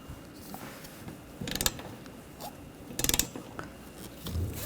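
A ratchet tightening the nuts on the wiper arms of a 2013-2019 Ford Escape, quick bursts of clicking in two main runs with quiet pauses between, close and moderately loud.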